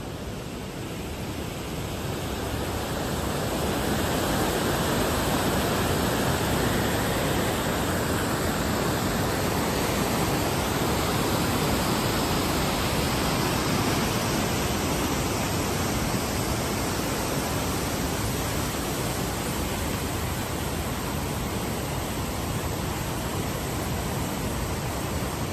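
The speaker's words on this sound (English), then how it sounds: "It starts up here with the river coming in, and it comes down this waterfall." A river waterfall pours into a swimming hole lagoon, giving a steady, dense roar of falling water that stays loud and unbroken throughout.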